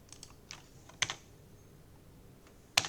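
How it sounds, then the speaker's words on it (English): A few separate keystrokes on a computer keyboard while entering a terminal command on a fresh Ubuntu install, quiet and close, with pauses between the clicks and a sharper final key press. "now I type this new command"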